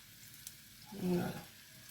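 Onions hitting a hot pan for beef and carrot stew, a brief soft sizzle swelling up near the middle and fading, fairly close and quiet.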